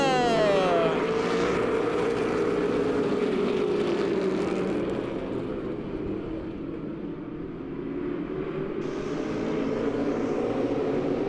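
Race cars roar past at the Lebanon I-44 Speedway as a feature race gets under way, a sustained engine drone that rises and sweeps by at a distance, with an announcer talking over the start.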